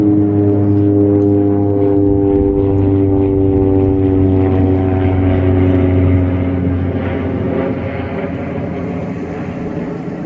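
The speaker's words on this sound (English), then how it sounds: "Plane going over here." Propeller plane passes overhead near a bay in Georgetown, South Carolina, a steady loud droning hum that slowly fades toward the end.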